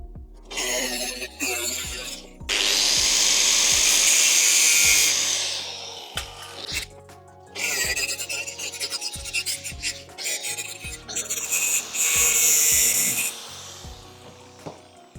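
Stainless steel is cut and shaped by hand, with long loud rasping strokes and rhythmic knocks that pause and restart, close up and with no talk.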